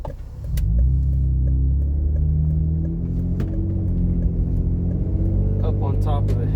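A Toyota FJ Cruiser with a dual chamber exhaust accelerates uphill, a loud, deep exhaust rumble heard from inside that climbs steadily in pitch, with a few brief clicks over it.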